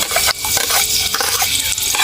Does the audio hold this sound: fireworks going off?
no